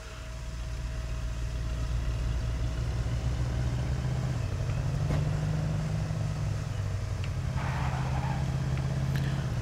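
A car in the zombie survival game State of Decay drives steadily with a constant engine drone, the pitch shifting as it moves, with a few faint knocks and thuds mixed in.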